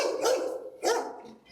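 A trained police detection dog, an experienced drug and protection dog, gives two loud, close barks about half a second apart, with no talk over them.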